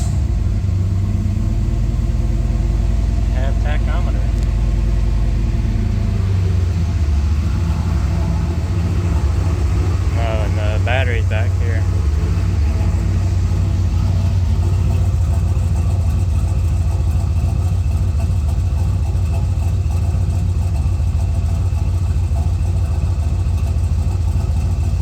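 A turbo Chevrolet Colorado engine cranks briefly and then settles into a steady, loud, rumbling idle that holds for the rest of the stretch.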